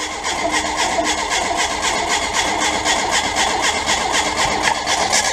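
A Renault Super 5 GT Turbo engine cranks over on its starter with the ignition disconnected so it cannot fire, giving a loud, continuous, rhythmic churning that never catches.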